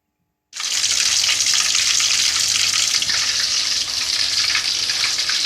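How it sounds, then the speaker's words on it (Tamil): Kari bonda, a meat bonda, drops into hot oil and bursts into a loud, steady sizzle that starts abruptly and continues unbroken, close up with no talking. "இப்போ ஆயிலில் ஃப்ரை பண்ணது நீங்கள் பார்த்துருப்பீங்க"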